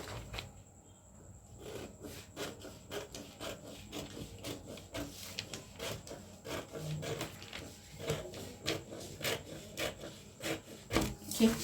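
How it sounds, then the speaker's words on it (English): Scissors cut out a blouse neckline from a paper pattern, giving a steady series of soft, close, crisp snips and rustling paper strokes that grow slightly louder toward the end, with no one talking. "So let me cut my neckline."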